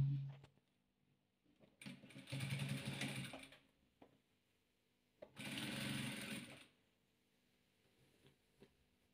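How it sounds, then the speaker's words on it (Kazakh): A sewing machine runs in two bursts of stitching as patchwork squares are joined, with quiet pauses between the runs and a few soft handling clicks. "Міне екі шаршыны тігіп қойдым."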